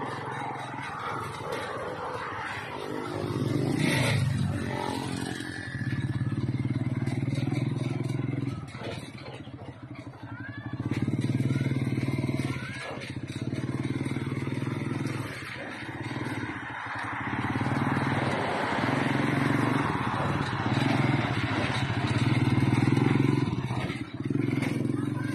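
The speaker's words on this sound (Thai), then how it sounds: "สามล้อไฮเทคขับง่ายใช้ง่ายเด็กขับได้บรรทุกได้สบายมาก" A modified Thai-built three-wheeler motor vehicle drives along, its small engine clattering and rumbling continuously, with occasional scrapes and rattles. Talking runs over much of it.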